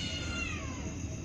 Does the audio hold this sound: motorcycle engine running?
no